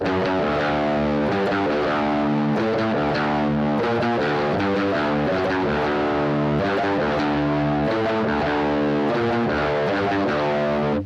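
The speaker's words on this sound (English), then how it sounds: "if you just have an electric guitar with distortion, what I would do is have a little bit of distortion" Heavily distorted electric guitar plays a steady, chugging riff with sustained chords, loud and continuous throughout.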